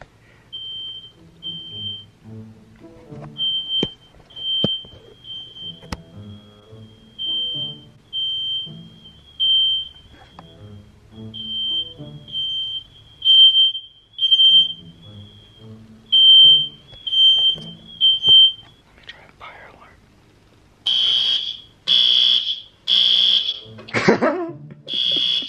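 A smoke alarm goes off indoors, sounding a piercing, high-pitched beep in repeated short pulses, loud and close. Mumbled voices and rustling sit underneath, and a louder, denser burst of beeping comes near the end.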